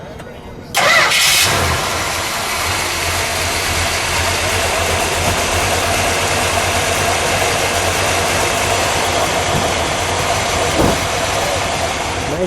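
A 1971 Dodge Charger R/T with a 440 Six Pack V8 cranks and catches with a loud burst, then settles into a steady, close, rumbling idle that continues to the end.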